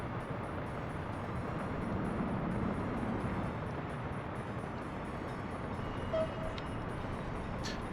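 A train rolls along steadily in the Workers and Resources video game, a continuous low rumble with faint metallic clicks riding over it, with no voices.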